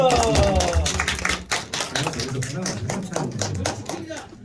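Students at a high school church service clapping for three classmates, a dense burst of many hands that stays steady throughout, with a voice talking over the clapping near the start.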